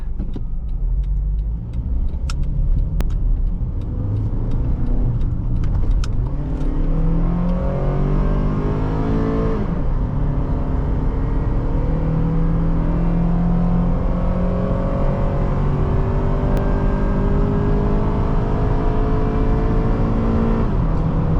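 A 2010 Honda CR-V LX engine revs steadily higher toward 7,000 rpm, the pitch climbing through the gears as the vehicle accelerates, loud and continuous from inside the car.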